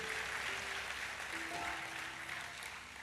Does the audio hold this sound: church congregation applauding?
yes